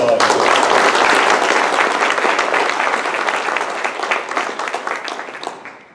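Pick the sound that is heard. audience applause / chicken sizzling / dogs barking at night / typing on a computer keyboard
audience applause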